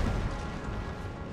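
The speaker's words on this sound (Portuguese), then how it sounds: "os tiros de canhão estão pegando aqui" Napoleonic-era cannon fire in Napoleon: Total War, a dense, rumbling barrage of booming artillery blasts rolling continuously across a battlefield, loud and low with no pauses.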